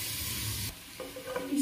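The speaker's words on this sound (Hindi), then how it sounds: "अब इसे मिक्स कर लेंगे।" Masala and chickpeas for chhole sizzle loudly in a hot pan as they are stirred, a steady frying hiss with scraping stirs toward the end and no talk.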